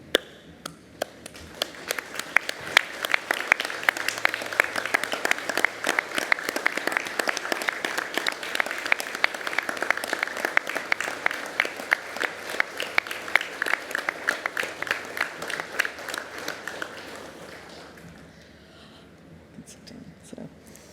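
An audience at a university graduation ceremony in Ourimbah, Australia applauds the graduates in a long sustained round of clapping that swells, holds, then fades out toward the end.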